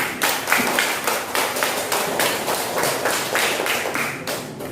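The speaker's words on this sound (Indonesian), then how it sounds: "Tepuk tangan untuk Najwa Nak" A classroom of pupils claps for a classmate named Najwa, a dense burst of many hands clapping steadily and fairly loud throughout, with no talking over it.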